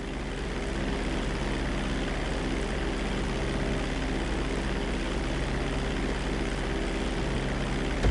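An airplane engine at full throttle during takeoff in the video game GTA 5, a loud steady droning roar with a constant low hum and propeller buzz, unchanging throughout.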